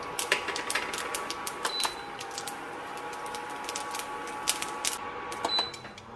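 Sharp, irregular pops and crackles burst in quick clusters over a steady sizzle, mustard seeds spluttering in hot oil close by.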